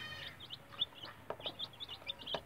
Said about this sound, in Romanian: Ia uitați puișorii.